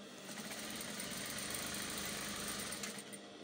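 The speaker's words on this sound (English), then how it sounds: "I'm going to sew that up to the hemline" Sewing machine running steadily as it stitches a jumpsuit seam down toward the hemline, a continuous close, loud motor whir with rapid needle chatter throughout.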